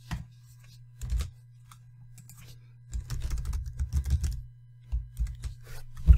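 Keys on a computer keyboard are typed in short, irregular bursts of soft clicks, with pauses between, close by and fairly quiet over a faint steady hum.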